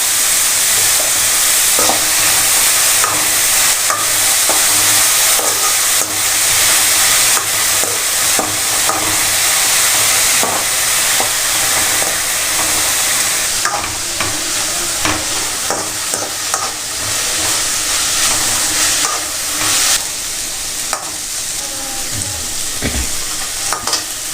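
Vegetables for fried rice stir-fry in a hot pan with a loud, continuous sizzle and frequent clattering stirs and scrapes of the utensil, close by throughout.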